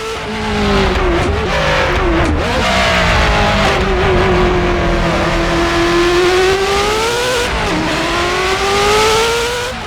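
A Ferrari F40 Competizione race car engine in a video game mod revs hard and continuously, its high whining pitch rising and falling through gear changes, loud and close with no talking.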